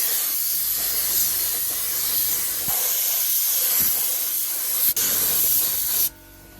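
Aerosol spray paint hissing steadily onto a Ford Escort engine's rocker cover in the car for a final coat, a continuous close hiss with brief pauses between bursts before it cuts off near the end.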